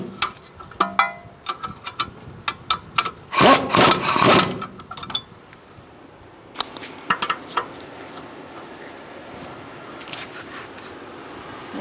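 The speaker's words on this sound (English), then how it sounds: "I'm going to snug these up first, and then I'm going to torque them to 130 foot-pounds." A wrench snugs up strut nuts on a 2010-2013 Kia Soul, with scattered close metallic clicks and a dense burst of ratcheting in the middle, alone with no talk.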